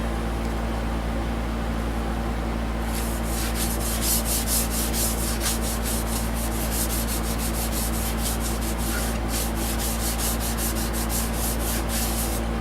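Yorkshire Grit abrasive paste is rubbed over spalted maple, a steady rhythmic scrubbing swish that starts after a few seconds of hum and continues evenly for the rest, close and fairly loud with no talking.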